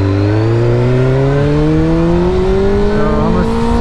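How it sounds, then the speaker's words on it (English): A motorcycle engine revs loudly and close up during a downshift, its droning tone climbing steadily in pitch the whole time. "you wanna downshift, and before you let the clutch out, you just like give the bike some gas and then you let the clutch out"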